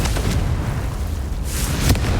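A Confringo fire spell detonates in Hogwarts Legacy, a loud, heavy rumbling boom with a deep low-end roar that sustains, followed by a sharper burst near the end, close and without talking.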